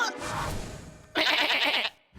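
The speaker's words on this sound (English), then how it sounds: "Whoa! The sheep!" Sheep in a video game give a loud nasal bleat up close, a wavering cry of about a second that follows a shorter bleating sound.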